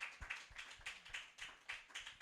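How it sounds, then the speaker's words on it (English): An audience at a talk on assisted conception applauds, a series of fairly faint, rhythmic clap bursts repeating about every third of a second, heard from a distance with no talk. "A round of applause for them again."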